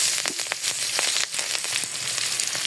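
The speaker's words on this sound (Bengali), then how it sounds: "ওই তেলের ভিতরে মরিচ দিয়ে দিলাম" Chilies sizzle in hot oil in a home kitchen where pointed gourd is being cooked for a hilsa fish curry, a loud, steady crackling hiss with small popping bursts and no talking.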